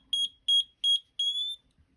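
A homemade shake detector sounds its alarm while the shaking continues, giving three close, shrill double beeps and then one longer tone, with silence between them.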